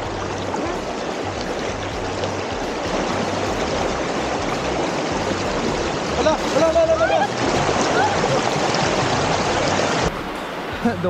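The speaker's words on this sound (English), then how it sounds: "Now we are crossing the second river, which has more water than the first one" A river, fuller than an earlier crossing and slippery underfoot, rushes steadily and loudly as someone wades across, with splashing water close by and brief voices.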